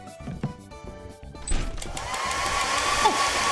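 A hair dryer in a video game switching on midway and whirring steadily in a rising blow, preceded by scattered knocks and thuds, with faint voices underneath.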